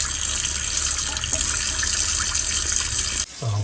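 Water gushes steadily from a boat hull as it is pumped out while the boat sits slipped ashore, a constant rushing flow that cuts off abruptly near the end.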